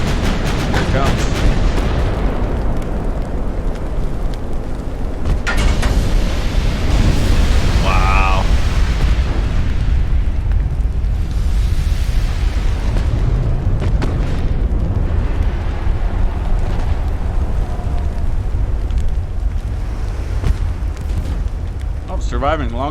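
Naval gun salvos and shell explosions from the warship battle game Ultimate Admiral: Dreadnoughts, a dense continuous roar of booming blasts and rumbling impacts throughout, loud and close, with a brief whistling tone partway through.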